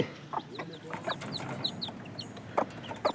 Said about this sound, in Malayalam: കോഴി കോഴിക്കുഞ്ഞുങ്ങളാണ്